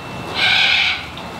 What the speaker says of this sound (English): The bird is interrupting.